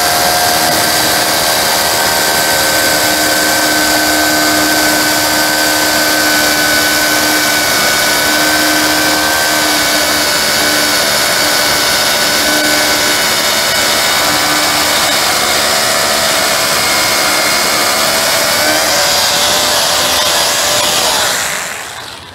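A loud, steady drill with a 12 mm bit whines and grinds continuously into concrete for about twenty seconds, then stops abruptly at the end.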